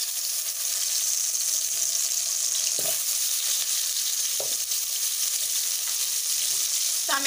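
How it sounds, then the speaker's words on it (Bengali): Potatoes fry in hot oil in a kadai with a little salt and turmeric, giving a loud, steady, close sizzle broken by a few brief stirring clicks. "তেল দিলাম, এবার আমি আলুগুলোকে ভেজে নেব।"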